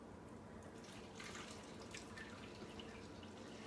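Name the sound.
homemade laundry soap poured slowly into a bottle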